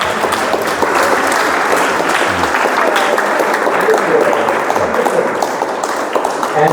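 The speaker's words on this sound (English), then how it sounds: "let's give them a huge round of applause." Warm applause from an audience of parents and children at a teenage program event, a dense, lively clatter of many hands clapping at steady volume, with faint voices mixed underneath.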